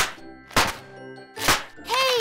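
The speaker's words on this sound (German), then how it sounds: "Hier sind Knallbonbons." Christmas crackers pulled at a family Christmas dinner in a cartoon, giving two sharp popping snaps about a second apart, then a brief chiming jingle after.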